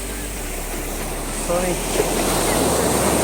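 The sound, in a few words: ocean waves on Arabian Sea beach, Kerala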